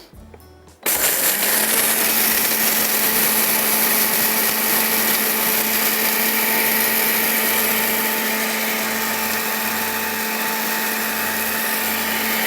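An electric kitchen grinder whirs loudly and steadily, grinding tartaric acid for haleem masala; the motor kicks in abruptly after a brief quiet moment and runs on at full, constant pitch.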